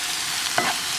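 Garlic and onions sizzle in a pan as a spoon stirs them, a steady close frying hiss with one brief scrape of stirring midway, no voices.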